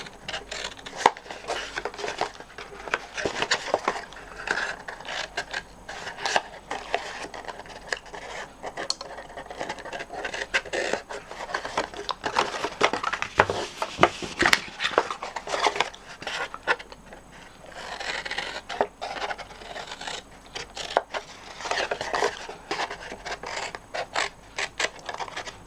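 Scissors snipping thin paper slivers while making a Stampin' Up! deep square gift box, a steady run of close, dry cuts and rustling paper continuing throughout.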